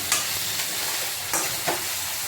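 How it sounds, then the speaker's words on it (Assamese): Chicken frying under a lid in a pan for an Assamese chicken curry, a steady loud sizzle with a few sharper crackling pops spaced through it. "ঢাকোনখন লগাই আৰু 2 মিনিটমানৰ কাৰণে ভাজি ল'ম।"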